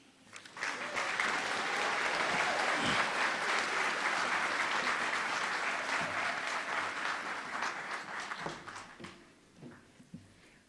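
An audience at a University of Namibia graduation ceremony in Windhoek breaks into applause that rises quickly, holds as a full crowd clapping for several seconds, then tapers into scattered claps.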